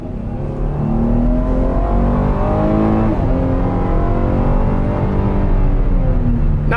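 A 2019 Chevy Blazer Premier with a 308-horsepower V6, in sport mode, accelerates hard, its engine note rising steadily in pitch through one upshift and then climbing again, loud and close with no talk.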